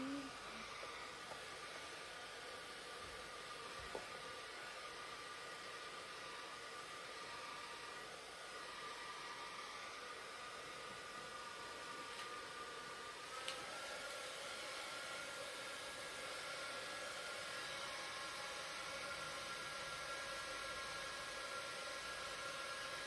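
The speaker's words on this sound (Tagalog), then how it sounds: "Gamit tayo ng fan para ma-absorb." Electric fan blowing steadily indoors on a hot day, a constant airy whoosh with a faint motor hum that holds unchanged throughout, with no talking.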